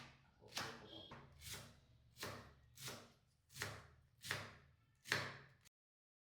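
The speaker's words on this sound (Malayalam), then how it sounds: "കേബേജൊക്കെ നുറുക്കി കഴിഞ്ഞു" Cabbage being chopped with a knife on a board for a vegetarian thoran, seven steady rhythmic thuds close up, evenly spaced, with no talking.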